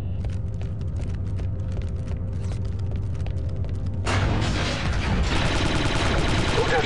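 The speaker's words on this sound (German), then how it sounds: "Guter Schuss da." Rapid gunfire in the Star Wars Republic Commando video game, a dense stream of repeated shots that thickens into a loud, continuous roar of blasts partway through.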